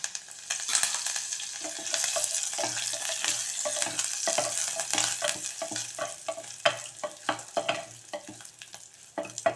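Curry leaves sizzling and crackling in a hot pan for a vegetable kurma, a steady bright frying hiss with frequent sharp pops and spatters, close and alone without voices.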